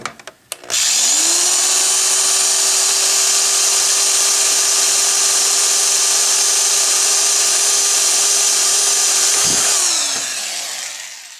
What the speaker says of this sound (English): I need to drill the holes for the body using a 1/4 inch drill bit.